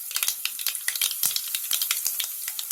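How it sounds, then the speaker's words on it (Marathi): Tempering of curry leaves and asafoetida sizzles in hot oil in a village-style kitchen, giving a dense, steady crackle of close, sharp pops with no talking. "अशी चांगली फोडणी आहे ना तडतडायला द्यायची."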